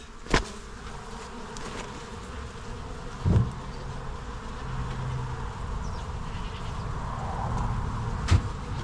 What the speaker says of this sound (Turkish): arı biraz yağmacılık var. Ondan saldırıyor arı.